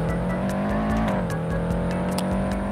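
A car in the Roblox driving game Jupiter Florida accelerates with a steady, loud engine drone that rises slightly in pitch, continuous throughout with no talking.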